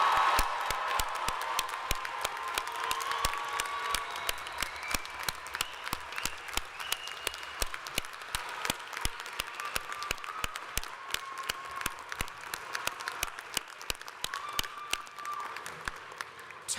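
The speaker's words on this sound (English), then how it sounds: "Give them again another round of applause." Sustained applause from a large commencement audience greeting the Fall 2022 graduates, dense steady clapping lasting throughout with faint crowd cheering mixed in.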